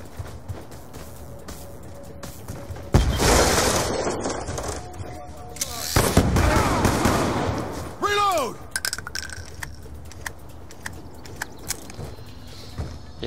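Executioner revolver, a handgun firing 28-gauge shots, in Call of Duty Black Ops 2 gun game, with a few loud, sharp blasts spaced seconds apart among clicks, rattles and other game effects.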